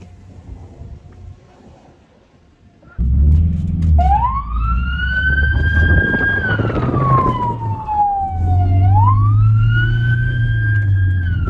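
An ambulance siren starts up close and loud, wailing up and down over a rumbling engine as the vehicle drives a difficult training course after a quieter lead-in.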